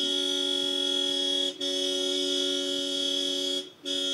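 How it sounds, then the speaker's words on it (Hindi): A car horn blares in a long, loud, steady honk held for several seconds, cutting out briefly twice before sounding again, part of a street noise-pollution test. "उधर से लगातार वो हॉर्न बजा रहे हैं"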